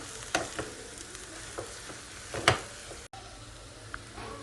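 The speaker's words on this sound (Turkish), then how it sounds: "Patatesi böyle 1-2 dakika kadar kavuracağım." Mashed boiled potatoes frying in a pan, with a soft continuous sizzle and a few sharp spoon scrapes and knocks as they are stirred, close and fairly quiet with no talk.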